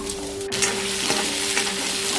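Onion dropped into hot oil in a kadhai after roasted coconut, sizzling steadily and loudly throughout, with an initial clatter and occasional stirring scrapes.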